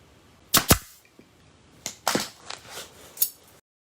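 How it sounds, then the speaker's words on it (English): Staple gun firing into love seat upholstery: several sharp, loud clacks, two close together near the start, then a few more spaced shots, with no talking. "making sure that the head of your staple gun is flat"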